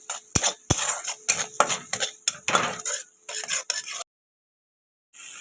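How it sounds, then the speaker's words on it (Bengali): Paneer masala being stirred and fried in a pan: a series of sharp scraping and clacking strokes of a utensil against the pan over a soft sizzle, then silence and a brief return of sizzling. "ভালো করে কষে নেবো।"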